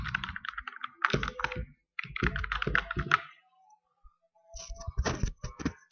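Close, clicky keystrokes on a computer keyboard entering an email address, coming in quick bursts separated by short pauses.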